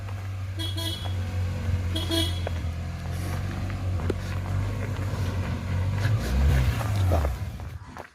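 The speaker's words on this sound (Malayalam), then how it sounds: "ഹോൺ അടിച്ചോ അതിലെ വണ്ടി വരും" A vehicle horn honks in short bursts, two clear toots early on, over the steady close rumble of an idling Tata Ace mini-truck engine that surges briefly near the end.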